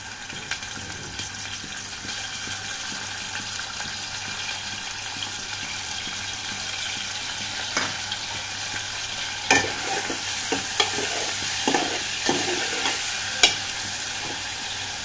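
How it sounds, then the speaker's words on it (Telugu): Raw prawns frying in hot oil in a pan, a steady close sizzle throughout with occasional stirring scrapes and spatters over it, no voices. "ఈ పచ్చిరేలు చక్కగా ఫ్రై అయ్యేటంత వరకు ఫ్రై చేసుకుందాం."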